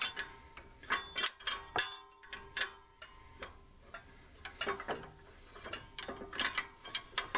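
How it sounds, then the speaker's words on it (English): Fan clutch nut wrench working on a 1980s–90s Ford F-Series 4.9 liter engine, giving repeated close metallic ratchet clicks and knocks in uneven bursts. "So we've got the fan clutch nut wrench on here."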